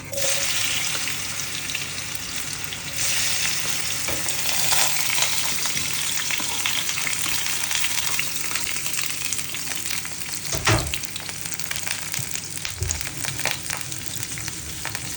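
Raw plantain pieces frying steadily in hot oil, a dense, continuous sizzle and crackle holding near and loud throughout, with a brief sharper burst of spatter partway through.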